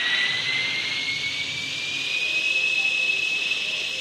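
A helicopter engine starts up in the video game Indian Bikes Driving 3D, a steady turbine-like whine whose pitch climbs slowly over a constant roar.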